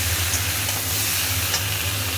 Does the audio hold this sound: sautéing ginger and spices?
yes